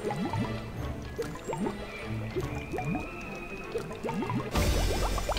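Liquid potion poured and bubbling in a Harry Potter video game, a run of quick close drips and gurgling plops, with a louder splash at the end.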